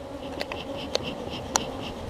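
Honeybees moving about in a hive, a steady close insect hum with a few sharp clicks or taps over it, no voices.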